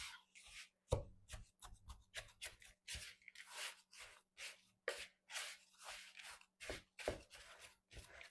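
Crumble bar dough of flour, butter and sugar being worked by hand in a bowl, a close series of soft squishing, rubbing and pressing sounds in an irregular rhythm against a faint background hum.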